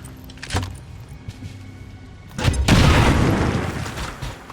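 Frag grenade going off in XCOM 2, a short thump first, then a heavy burst of blast and crumbling debris that rumbles loudly for a couple of seconds.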